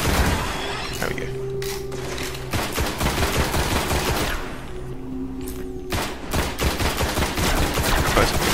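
Gunfire in the Destiny beta video game: dense, continuous bursts of rapid shots and booming impacts fill the whole stretch, with a faint voice now and then underneath.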